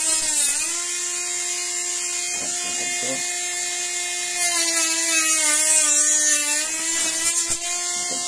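A cordless rotary multitool runs steadily at high speed with a whining motor tone, shifting pitch slightly as it cuts, loud and close throughout.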